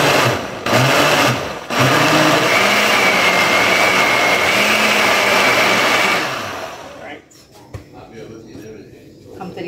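A kitchen blender whirs steadily at high speed for several seconds, loud and close, then cuts off abruptly, followed by quieter clattering while people talk in the kitchen.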